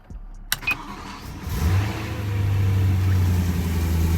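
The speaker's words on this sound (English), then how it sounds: "We're ready to fire up the car and hope that everything works well" A BMW E90 M3, fitted with a new starter, cranks and fires up nearby: a couple of sharp clicks, then a brief whir before the engine catches and settles into a loud, steady idle.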